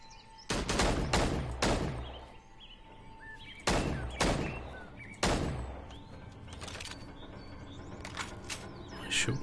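Gunfire in the video game The Withering: a handful of sharp, loud single shots spaced a second or more apart, each with a short echoing tail, over quiet ambience and no speech.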